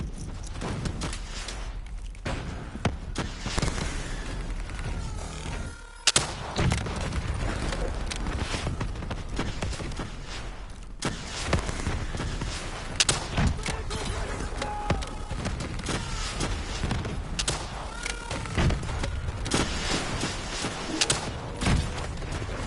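Sci-fi shooter combat in Call of Duty Black Ops 3 during a boss fight, with bursts of gunfire, thuds and explosions mixed with game music and radio voices, one sharp loud impact near the middle.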